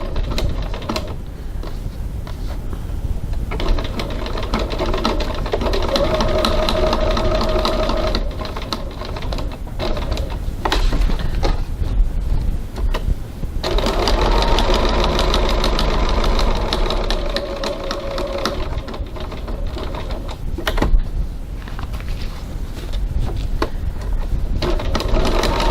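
Home sewing machine stitching a bag pattern along marked lines, a steady mechanical whir running in long continuous bursts with short pauses between runs.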